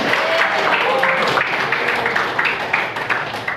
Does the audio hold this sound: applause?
yes